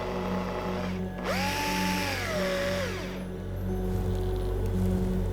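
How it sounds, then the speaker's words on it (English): A surgical drill drives metal pins into a hedgehog's fractured bone, a high whirring whine that rises, holds for a couple of seconds and dies away over a steady background hum. "Using a surgical drill, two metal pins were secured on each side of the fracture site"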